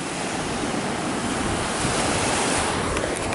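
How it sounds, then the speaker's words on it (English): Caribbean Sea waves wash onto a Jamaican beach in a constant, loud roar of surf mixed with wind buffeting the microphone, with no voices. "hear the waves blowing all night"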